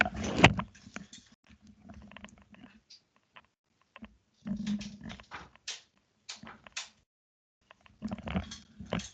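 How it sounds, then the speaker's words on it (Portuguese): A door is closed indoors in a quiet room: a few scattered knocks, clicks and soft thuds come in separate bursts against near silence. "Só um instante, eu fecho a porta."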